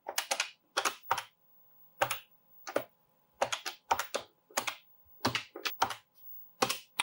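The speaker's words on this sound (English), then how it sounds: "And then I can start to type." Key presses on a Mattel Intellivision ECS computer keyboard while a program is entered, close clicky taps in short irregular bursts separated by brief pauses, with a faint electronic hum beneath.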